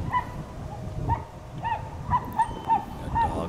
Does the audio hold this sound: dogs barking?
yes